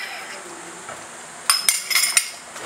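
Risotto alla Milanese being stirred in a pot with butter and parmesan, a spoon scraping and clinking against the metal in several quick strokes near the end after a quiet start.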